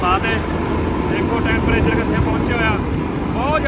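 A tractor engine drones steadily in a hot maize field while someone talks loudly over it.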